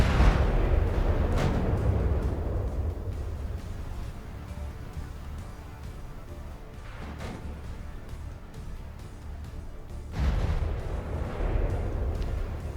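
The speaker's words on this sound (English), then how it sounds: "Plenty of rounds still going out." Heavy weapons fire from the Fafnir mech in a BattleTech-style video game, a dense run of deep booming blasts that roll on continuously, with strong bursts near the start and again toward the end.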